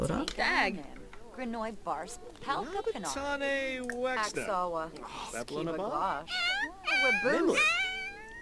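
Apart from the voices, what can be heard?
cat meowing in The Sims 4 video game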